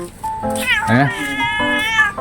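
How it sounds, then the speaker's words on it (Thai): A cat meows repeatedly up close, long wavering cries, one rising and falling sharply, loud and clear with no talk over them. "แมวเป้าแมวเป้า นายคือแมวเป้าใช่ไหมฮะ"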